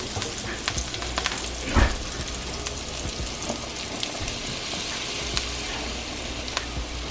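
Butter and flour roux sizzling in a pan with onions for steak and egg burrito gravy, a dense continuous crackle with a few louder stirring knocks.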